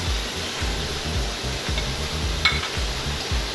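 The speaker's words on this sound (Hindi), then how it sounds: "अब इस स्टेज के ऊपर मैं ये हरी मिर्चें डाले दे रही हूँ" Tomato masala for mutton biryani sizzles steadily in the pan as green chillies are stirred in, with a continuous frying hiss and rhythmic low scraping strokes close by.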